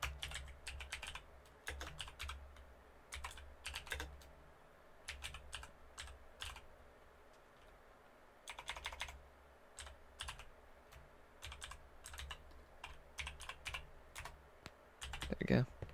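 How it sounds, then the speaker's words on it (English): Keyboard typing comes in quick bursts of clicky keystrokes with short pauses between them, close and fairly quiet, no voices. "The only background noise it'll pick up is my keyboard."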